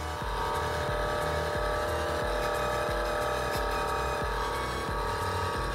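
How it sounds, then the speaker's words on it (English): A small 12 volt motor runs steadily inside a homemade rotating globe, a continuous close whir with a constant buzzing hum and faint regular ticks, no voices. "this sound is of this motor, right? This motor is running now."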